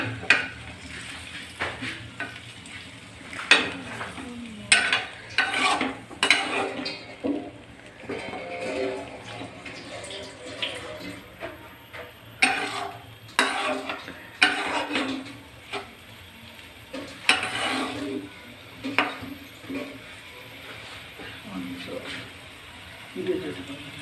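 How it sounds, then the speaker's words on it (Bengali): A spoon gently stirs beetroot curry in oil in a pan, with intermittent scraping and clinking strokes over a soft sizzle while a voice talks in between. "এগুলো আলতো আলতো হালকা করে নাড়িয়ে নেবেন।"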